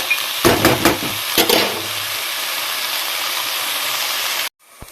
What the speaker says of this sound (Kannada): ನಾನು ಒಗ್ಗರಣೆ ಮಾಡ್ತು ತರಕಾರಿ ಪೂರ ಫ್ರೈ ಮಾಡ್ತಿದ್ದಿಲ್ಲ